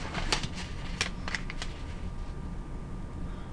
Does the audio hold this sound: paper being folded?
yes